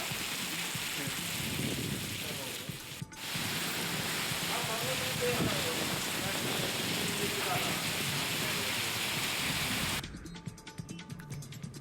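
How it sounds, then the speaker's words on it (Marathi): Heavy unseasonal rain pours down in a dense, constant hiss, with a brief dip partway through and a change in sound near the end. "पावसाच्या सरी कोसळत आहेत"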